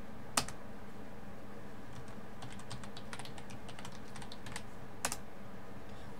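Quiet computer keyboard typing a login username and password, a short run of soft clicking keystrokes with a couple of sharper key presses at the start and end, close and faint.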